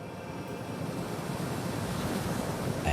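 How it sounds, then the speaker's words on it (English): Sea waves and surf roll in a steady, broad wash of noise that swells slightly over a few seconds, alone without voices. "At first Hoichi could hear the sea"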